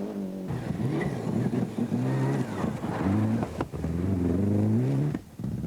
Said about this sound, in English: Debuting a brand new left-hand drive Toyota Celica, Bates set a blistering pace